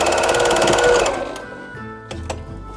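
A sewing machine runs a quick, steady burst of repair stitches through a worn rag-woven mat about thirty years old, then slows and stops, leaving a few faint clicks and knocks close by.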